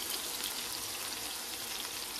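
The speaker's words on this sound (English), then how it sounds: "we're cooking the sausage" Sausage frying in a pan on a low-heat cooktop, a faint, even crackling sizzle that stays steady and unbroken throughout, close by with no voices.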